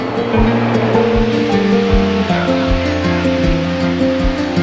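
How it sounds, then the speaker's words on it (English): Strong ocean waves surge and wash continuously onto the beach at Playa de El Bobo, Tenerife, loud and close, with low rumbling tones running under the surf. "Strong waves?"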